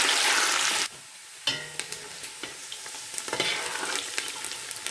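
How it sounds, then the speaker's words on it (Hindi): Onions frying and browning in a pan for pulao, a loud steady sizzle at first, then a quieter stretch broken by scattered stirring clicks and scrapes as the frying continues. "प्याज हमारा ब्राउन हो रहा है"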